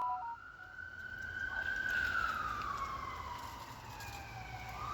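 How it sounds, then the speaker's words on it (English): Ambulance siren sweeping past on a street outside during a 1965 Ford Thunderbird rebuild, a rising then falling wail that swells loud as it passes and fades away, heard alone. "Don't mind the meat wagon going by."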